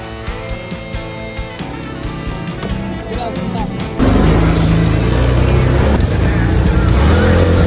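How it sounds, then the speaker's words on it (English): Dune buggy racing across Moroccan desert dunes, its engine a loud continuous roar that grows heavier partway through, with wind rush and voices of riders talking over it. "After the camel ride, we rode on a dune buggy"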